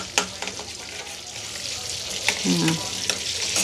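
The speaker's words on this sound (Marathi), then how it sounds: "आता ह्याच्यामध्ये मसाला भाजून घेते मी" Pav bhaji masala roasts in melted Amul butter in a pan. A steady close sizzle carries a few sharp spoon taps and scrapes, and a faint voice murmurs briefly underneath.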